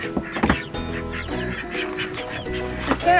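Seven newly arrived ducks on a small farm quack loudly and repeatedly at close range, their overlapping calls forming a busy, uneven chorus.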